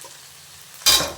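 A pan of avarekalu chitranna, rice with field beans, being stirred: quiet at first, then a short, loud, close burst of sizzling and scraping near the end.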